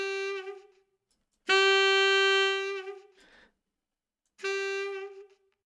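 Sampled reed instrument from the Broadway Lites library playing three separate notes with a hard marcato attack and rough, dirty vibrato, each a bright held tone with short gaps of silence between them, heard alone.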